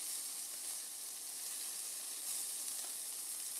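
Sausage and mushrooms searing in a hot pan, giving a steady, even sizzle with hissing steam that stays constant and close, with no voices.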